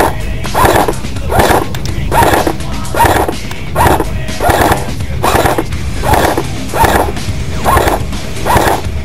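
An AGM XM8 airsoft rifle fires a series of about ten evenly spaced shots at a target, each a loud, sharp pop with a short ringing tail, steady in rhythm and close by.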